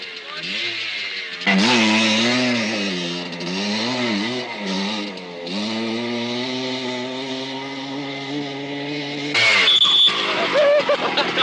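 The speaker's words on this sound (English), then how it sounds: "I was nervous just getting ready to ride the little Harley up the dirt ramp" A small Harley motorcycle rides up a dirt takeoff ramp at the Snake River Canyon, its engine revving and rising in pitch in surging waves for several seconds, loud and close, before a harsher burst near the end.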